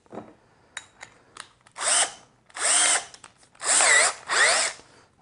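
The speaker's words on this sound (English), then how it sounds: "let me get my drill" A power drill whirs in several short bursts, spinning up and down while drilling a pocket hole with a Milescraft Jig 100, with small clicks and handling noises in the gaps between.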